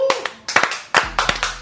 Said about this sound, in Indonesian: Tepuk tangan dulu dong penonton bayarannya.